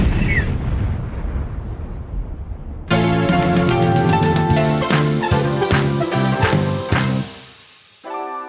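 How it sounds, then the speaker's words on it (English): A whip crack and explosion sound effect: a noisy blast rumbles and fades, then a loud bright burst of ringing tones erupts and sustains for several seconds before cutting off, with a short final hit, no talk. "So, Will, give us that good whip crack explosion"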